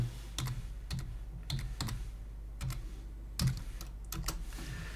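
Text in capital letters is typed on a computer keyboard as separate clicking keystrokes and small clusters, fairly close, over a low steady hum with no speech.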